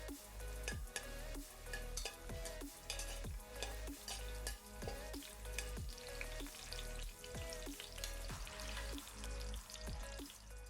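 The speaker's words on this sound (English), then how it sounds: "just saute this up till the onions go translucent" Three finely sliced onions with green chilies saute in a pan for mutton biryani, a steady busy sizzle with constant crackling and repeated clacks of stirring throughout, close and fairly loud, no voices.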